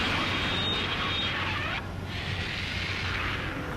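Drone aircraft flying in the Ace Combat 7 video game, a continuous jet-like roar with a faint steady whine that dips briefly midway and then carries on at moderate level.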